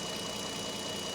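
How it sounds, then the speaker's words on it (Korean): A 2500cc V6 in a Renault Samsung SM7 Nova idles with the hood open, giving a smooth, steady, even hum with no voices. "이 엔진 소리가 들리시나요?"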